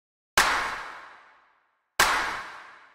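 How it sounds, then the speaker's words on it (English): A saturated clap sample for a textured synth track hits twice, each a sharp, bright, isolated strike with a long smeared decaying tail, about a second and a half apart. "So the next thing we have here is this clap"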